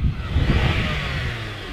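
A truck's diesel V8 engine revs up close and loud, a rough rumbling roar that climbs and then holds steady, with no talk.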